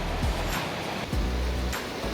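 A strong, fast-flowing river at Sitio Ilihan in Calabanga, Camarines Sur, gives a steady, dense rush of water that holds an even, close roar throughout with no voices over it.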